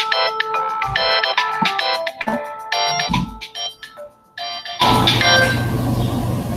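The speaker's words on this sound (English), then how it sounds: "the phone always seems to interrupt me while I'm broadcasting" A telephone ringing loudly and close in a home broadcasting setting, with a repeating electronic ringtone pattern of tonal bursts and short gaps, followed by a burst of broader noise.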